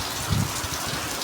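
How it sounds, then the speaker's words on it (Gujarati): Heavy rain pours onto a farm field in gusty wind, a dense, continuous hiss with no voices. "અમારે છે ને જો પાછો વરસાદ વધી ગયો છે થોડોક,"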